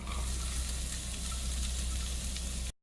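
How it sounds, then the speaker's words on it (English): Onions fry in olive oil in a pan with a steady, soft sizzling hiss close by, ending abruptly, with no talk. "Now we will add the onions."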